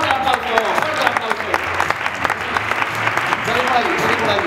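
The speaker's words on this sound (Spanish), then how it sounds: "¡Fuerte aplauso!" Audience applause during a magic show, steady clapping mixed with voices and crowd noise, with speech running over the top throughout.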